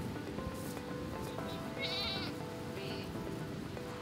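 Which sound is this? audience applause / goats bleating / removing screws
goats bleating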